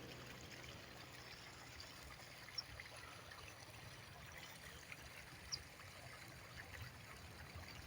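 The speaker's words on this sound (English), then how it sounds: "It's done busted the water drain pipe in the ground. It's just overlapsing with water right now." Water running steadily from a busted drain pipe in the ground on a freezing winter night, a faint, continuous trickling rush with a couple of small splashy ticks, heard alone.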